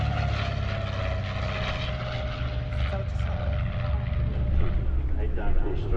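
The engines of a de Havilland Comet at an Old Warden air display hold a steady, loud, broad roar as the aircraft flies past, and an announcer's voice carries over the noise.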